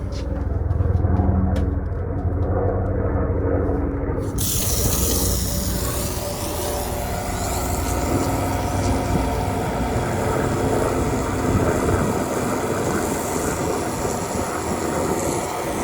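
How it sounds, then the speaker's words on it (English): A military helicopter passes overhead outdoors at a softwash skid setup, a loud, steady broadband rotor and engine roar that fills the whole clip, swelling sharply after a few seconds as it nears. "Military helicopter."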